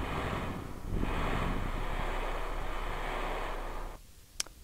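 Strong, steady wind in Kerbal Space Program rushes and roars continuously, then drops off abruptly near the end, leaving a brief quiet with a faint click.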